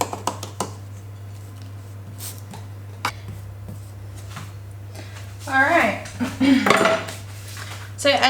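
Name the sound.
back of a spoon pressing pie crust base into dish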